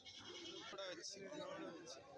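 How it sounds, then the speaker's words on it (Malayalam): A large billy goat at the Kilimanoor goat market in Kerala lets out a short bleat amid market chatter, with someone talking close by over it. "ഇവിടെ ഒരു വലിയ മുട്ടനാട്"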